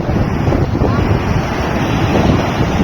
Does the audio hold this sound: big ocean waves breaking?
yes